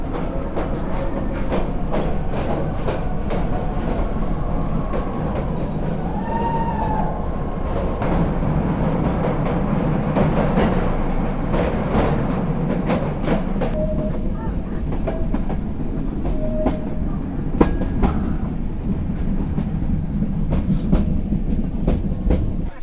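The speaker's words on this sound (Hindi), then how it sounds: "अब ये सेक्शन पे पाताल पानी से कलाकुंड बस यही मीटर गेज का हिस्सा बचा है जिस पे ये हेरिटेज ट्रेन चल रही है" A heritage meter-gauge train runs between Patalpani and Kalakund, its rumble and rhythmic clickety-clack steady and close. Occasional faint wheel squeals rise above the continuous noise of the rolling carriages.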